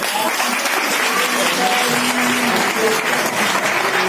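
A crowd at a women's empowerment program in Hapur gives a steady, dense round of applause that fills the whole stretch, with faint voices mixed into the clapping.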